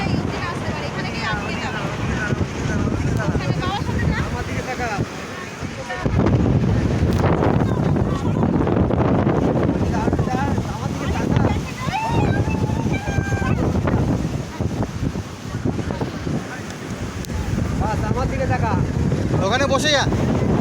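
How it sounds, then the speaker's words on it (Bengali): Rough sea at Sankarpur beach roars as a broad, continuous wash of surf, heavily buffeted by wind noise on the microphone, with voices talking over it at times. "কি ঢেউ!"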